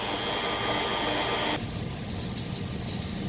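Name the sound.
submerged arc welding machine running automatic weld fill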